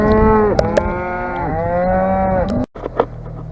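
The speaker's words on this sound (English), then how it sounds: "Here come the first cows into this pen." Cattle moo in a pen at a cattle auction, two long deep lowing calls from close by, loud and overlapping, followed by a brief break and quieter shuffling and knocking in the pen.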